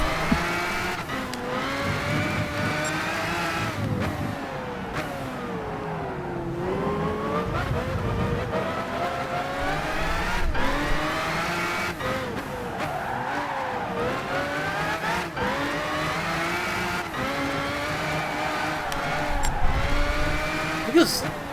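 Race cars in Gran Turismo 5 at Tsukuba circulate in traffic with steady engine drone, shifting revs and occasional tire squeal, continuous and fairly loud under a talking voice.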